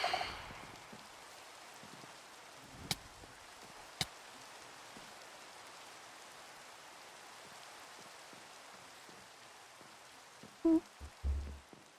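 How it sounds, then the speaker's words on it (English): Steady rain falls in Minecraft, a soft continuous hiss throughout with a couple of sharp clicks early on and a few brief thumps near the end, no one talking. "the rain hurts you"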